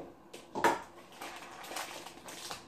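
Spoon scraping and clinking as candy is scooped from a crock pot liner bag, one sharp clatter followed by softer rustling scrapes, quiet and close.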